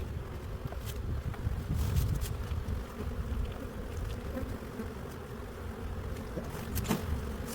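Honey bees buzz around a hive box in spring, a soft steady drone in the background with faint rustles and light knocks, and no talk.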